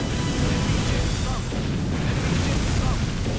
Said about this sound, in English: let's release my torpedoes